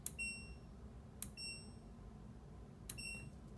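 An LG washing machine gives three short electronic beeps after a button press, each a bright high tone, spaced about a second apart and close to the listener, with only faint room noise between them.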